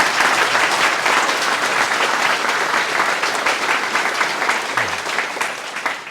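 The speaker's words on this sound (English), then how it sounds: "So let's give them a round of applause." Audience applause at the opening of a quantum computing company's commercial lab at a university in Sydney, a dense, steady clapping from a crowd that carries loudly through the whole stretch and eases slightly at the end.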